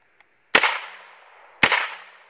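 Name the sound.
AR rifle firing double-tap shots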